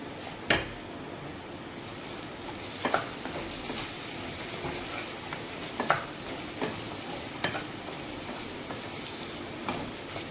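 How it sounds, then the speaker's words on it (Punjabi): Tomato ketchup stirred into bread cheese chilli sizzling in a pan, with a steady frying hiss throughout and periodic scraping strokes of the spoon about every second or two. "ਟਮਾਟੋ ਕੈਚਪ ਪਾਵਾਂਗੇ 2 ਚਮਚ ਆਪਾਂ ਪਾਇਆ ਹੁਣ ਆਪਾਂ ਇਹਨੂੰ ਮਿਕਸ ਕਰ ਦੇਣਾ"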